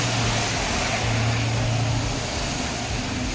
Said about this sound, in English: it's because of the constant cars just going around.